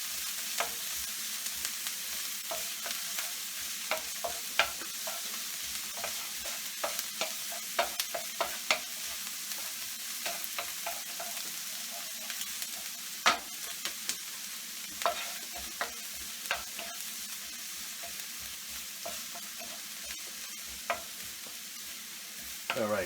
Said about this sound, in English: as the onions are getting sauteed and getting translucent, we're not going to brown them